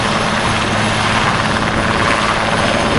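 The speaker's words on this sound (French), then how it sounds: "L'hélicoptère va pouvoir remonter, reprendre de l'altitude." Military helicopter lifting a T4 vehicle and climbing back to altitude roars loudly and steadily, rotor thrum and turbine whine filling the whole stretch with no voices.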